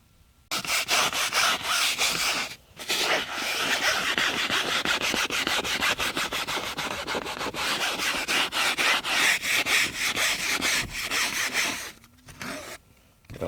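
Dense crackling and fizzing of Turtle Wax interior cleaner foam working on a car seat, like bubbles popping, runs steadily for several seconds, briefly breaking off once and fading out near the end.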